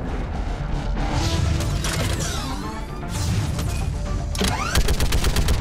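In the video game Mass Effect 3, a cannon fires repeatedly at the main barricade, giving a dense run of booming shots and mechanical clatter amid battle noise.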